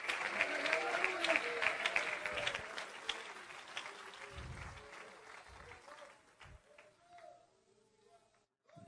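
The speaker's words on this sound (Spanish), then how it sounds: "dele un aplauso al Señor en esta hora" Church congregation clapping in praise, strong and lively at first, then thinning and fading away over several seconds, with a few low thumps and voices scattered through the tail.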